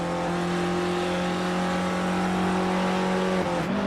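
A Ford race car in the iSpec Racer Ford Challenge sim lapping Bathurst, its engine holding a steady, loud, continuous drone at near-constant pitch, then dipping briefly near the end as it shifts or brakes.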